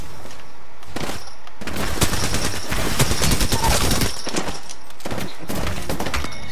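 Heavy automatic gunfire in a shooter video game, dense, loud bursts of rapid shots rolling almost continuously, with a few sharper isolated cracks near the start and end, and no talking.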